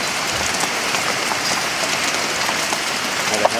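Hail falling steadily during an afternoon hailstorm on a farm near an oak tree, a dense continuous patter of small impacts with no pauses.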